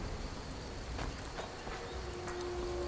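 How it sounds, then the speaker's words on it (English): Rain falls in Skyrim Anniversary Edition as a steady, dense hiss of drops, even and continuous, with a faint tonal hum running underneath. "it's raining too"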